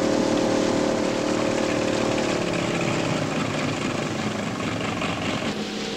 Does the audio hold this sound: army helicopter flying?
yes